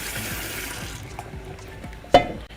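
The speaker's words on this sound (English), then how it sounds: "Then wash it tight, then we pour water in it" Water from a sink tap runs into a pot for cooking, a steady hissing flow that fades toward the end, with a brief clunk near the finish.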